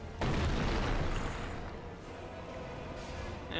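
A firebomb going off in Dark Souls 3 against a tree boss makes a sudden deep boom that settles into a rumbling roar of flame, loud and close.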